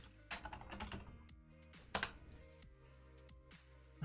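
Someone types on a computer keyboard, with irregular bursts of quick, light key clicks and short pauses, fairly quiet and close.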